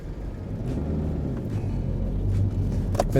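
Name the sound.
road traffic with buses in Reading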